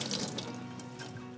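Fresh-cut thyme rinsed under a running kitchen tap, a steady close hiss of water streaming into a sink for a moment with no talking.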